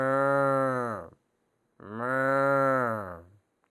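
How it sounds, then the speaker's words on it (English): A cow gives two long, drawn-out moos with a short pause between them, clear and close in an otherwise quiet setting. "The cows were mooing. This is the sound the cow makes."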